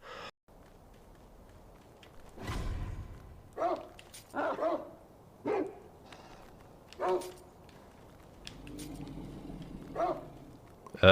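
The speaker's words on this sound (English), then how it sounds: "More dogs!" Dogs in the video game Elden Ring bark and yip in a series of short, fairly close bursts with gaps between them, over a quiet game background.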